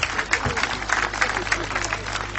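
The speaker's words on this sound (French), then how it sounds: "Applaudissons, applaudissons, applaudissons, applaudissons, applaudissons." An audience claps at a televised event, thin scattered applause at moderate level with some crowd noise.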